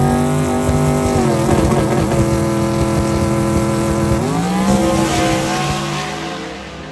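A drag race car launches down the track at a street-car drag event, a loud sustained engine roar climbing through gear changes, close at first and then fading as the car pulls away.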